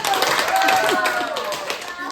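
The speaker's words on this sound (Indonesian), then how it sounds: "Oke, tepuk tangan." A class of students applauds in a classroom during a teaching session, a continuous patter of many clapping hands, with children's voices mixed underneath.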